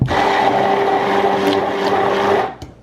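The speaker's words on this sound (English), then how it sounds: "You can literally blend this up in seconds with a manual blender." A blender whirs steadily for more than two seconds while mixing a healthy Frosty-style dessert, loud and close, with an even mechanical drone that cuts off abruptly near the end.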